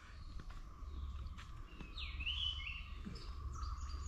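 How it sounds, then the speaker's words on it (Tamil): A white-cheeked barbet calls in the forest at Thekkady, a single clear call standing out over steady low ambient rumble and faint background birdsong, at moderate distance. "இப்போ நீங்கள் கேட்டுட்ருக்கிற சத்தம் பார்த்தீங்கன்னா ஒயிட் சிக் பார்பட்."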